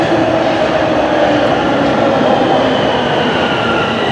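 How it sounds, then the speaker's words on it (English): A subway train pulls into Highway 407 station, a steady loud rumble of wheels and carriages filling the platform without pause, with no talk over it. "There's a train pulling in."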